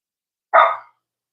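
A Boston terrier by a pool lets out a single sharp bark at close range, followed by silence.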